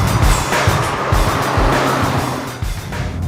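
Renault 5 GT Turbo hot hatch driving with no traction control or ABS, its engine and turbo making a loud, steady, close drone with rhythmic low pulsing throughout, unbroken by any voices.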